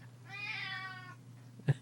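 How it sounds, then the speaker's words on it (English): An upset cat gives one long, drawn-out meow close by in a quiet room over a low steady hum, followed by a brief soft knock. "we should care that the cat is upset"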